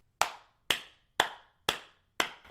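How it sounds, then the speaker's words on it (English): Five single hand claps made at home and recorded into a microphone, evenly spaced about half a second apart, each a sharp, close, dry smack with a short decaying tail, alone with no talk. "I'll just do my own hand clap"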